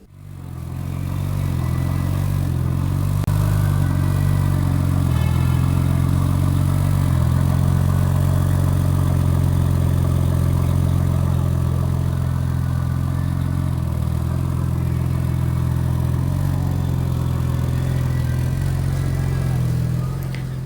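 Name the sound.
2014 BMW M4 Coupe MDCT engine sound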